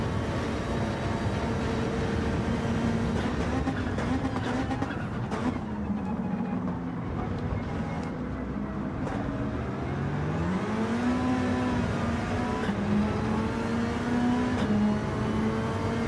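Mitsubishi race car engine in Gran Turismo 7 racing game, a steady droning hum with rising and falling revs through gear changes, continuous and alone without talk.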